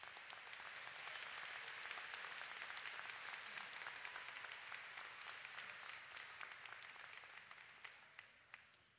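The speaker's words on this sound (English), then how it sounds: "let's give those groups a round of applause" Graduation crowd at a fall commencement ceremony applauding a group of master's graduates, sustained dense clapping with sharp individual claps standing out, gradually tapering off at the end.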